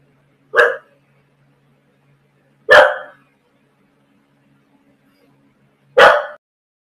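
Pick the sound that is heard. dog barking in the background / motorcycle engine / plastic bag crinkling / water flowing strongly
dog barking in the background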